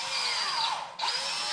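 A power drill spins a valve lapping tool chucked on a quarter-inch shank bit for a cylinder head, whining steadily at close range, dipping briefly in speed near the middle before revving back up.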